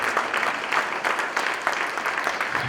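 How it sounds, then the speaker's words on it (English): Audience applause at a school project event honoring students and parents, a dense burst of steady clapping filling the room. "So let's please give him, Dr. Mills, another big round of applause."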